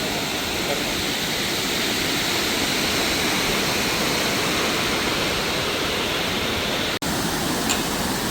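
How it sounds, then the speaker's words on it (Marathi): Waterfall near a village on the Kasara–Khardi route, heard from above as a loud, dense, unbroken roar of rushing water, with one brief click partway through. "वॉटरफॉल नेहमी आपण खालून बघतोय आज वरून बघतोय"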